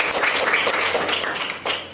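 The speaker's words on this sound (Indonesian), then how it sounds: "kasih aplaus." A crowd at an office promotion celebration claps steadily as applause for a manager. The clapping is dense and moderately loud, with a few sharper claps standing out near the end.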